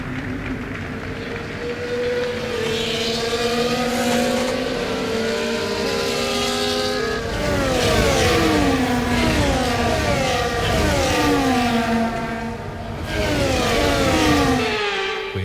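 Several Formula 1 cars from the F1 24 racing game idle and rev through a formation lap, their engines overlapping in rising and falling harmonic whines that stay loud and steady throughout, with no voices.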